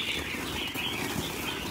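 A red-whiskered bulbul beats its wings during capture, producing a steady, close, rustling flutter that continues without a break.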